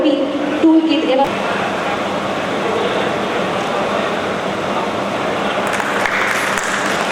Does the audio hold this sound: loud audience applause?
yes